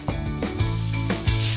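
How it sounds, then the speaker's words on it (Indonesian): Ground spice paste sautéing in hot oil for a North Sulawesi coconut-milk dish, with a loud steady sizzle punctuated by a few sharp stirring scrapes and knocks at regular intervals. "Lanjut kita tumis bumbu yang sudah dihaluskan tadi"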